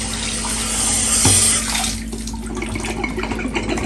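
Running water rinses a reusable K&N cabin air filter, a steady broad splashing stream that is loud at first, then eases into softer trickling and dripping, with no talk.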